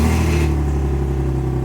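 A BMW E46 engine starting up, running loud and close, a steady low rumble with a brief rise at the start before settling into a rough, even drone.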